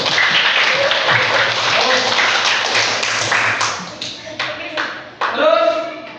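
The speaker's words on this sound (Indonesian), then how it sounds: "Ya, bagus, tepuk tangan dulu." A class of students applauds in a classroom during an Islamic cultural history lesson, a dense wash of hand claps lasting several seconds, with voices mixed in and the clapping thinning out toward the end.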